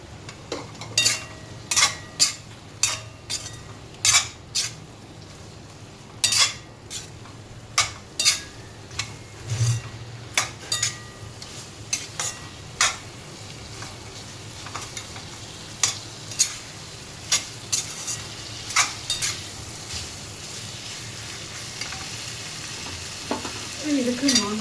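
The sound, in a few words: prawns added to a pan, stirred and frying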